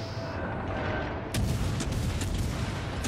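Heavy naval guns boom in a World of Warships Legends sea battle, a rumbling barrage that breaks into several sharp, loud shots in close succession over a constant low roar of background battle noise.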